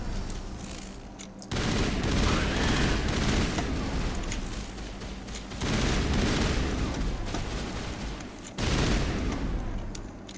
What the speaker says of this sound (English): Let's just use the gun that's built for this kind of thing.